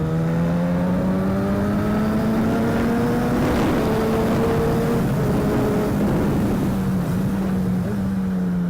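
A Yamaha XJ600 motorcycle engine runs steadily and close, its tone rising and falling as the bike is ridden, with wind buffeting the microphone throughout.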